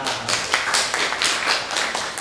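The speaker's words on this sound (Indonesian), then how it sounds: "saya kayak tepuk tangan dong buat Fedisa" A small class of students clapping for a classmate during a Japanese-language practice lesson: a steady run of close, overlapping claps for about two seconds, with no talk.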